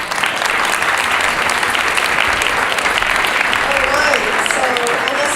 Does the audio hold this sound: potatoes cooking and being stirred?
no